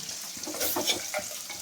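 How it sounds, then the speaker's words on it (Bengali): Bata fish sizzling and crackling as it fries in hot oil, a close, steady hiss with small pops and stirring scrapes. "আমার এই বাটা মাছগুলো ভাজা হয়ে গেছে"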